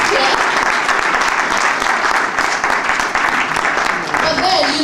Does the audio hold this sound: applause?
yes